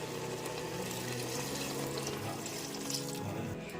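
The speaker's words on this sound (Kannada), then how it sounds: "ನೀರನ್ನು ಸೇರಿಸ್ಕೊತಾ ಇದ್ದೀನಿ." A continuous, steady rush of water pouring into a pot of rice for mutton pulao, filling without a break at a fairly low level.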